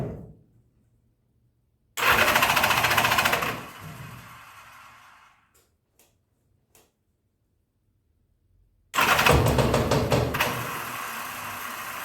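A 1983 Honda Goldwing GL1100 motorcycle on full choke cranks and tries to start in two loud bursts, each fading into a rough, uneven run, with a quiet gap and a few small clicks between them.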